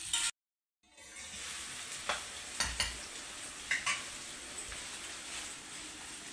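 Onions frying in hot oil in a pan for Andhra-style mutton drumstick curry, a steady sizzle with intermittent scraping clinks of a stirring spoon, close by, after a brief silent gap at the start.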